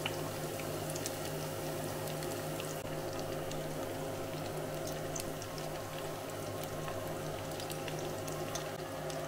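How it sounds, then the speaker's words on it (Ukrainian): Steady sizzling and bubbling of tomatoes frying in a pan over lowered heat, continuous and moderately loud with a low hum underneath, no talking. "І поки помідори смажаться"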